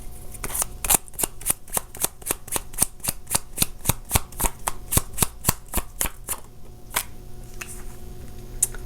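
Tarot cards are shuffled and drawn in a quick, steady run of crisp riffling snaps, close and fairly loud, slowing toward the end with a few last flicks, and nobody speaks.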